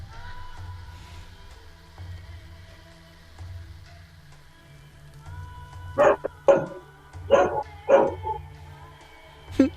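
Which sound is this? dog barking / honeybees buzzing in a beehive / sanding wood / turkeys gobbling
dog barking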